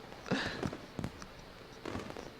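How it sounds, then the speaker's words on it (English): Fireworks in the visual novel Katawa Shoujo: a few muffled pops and crackling bursts, spaced unevenly over a quiet background. "I forgot there's fireworks"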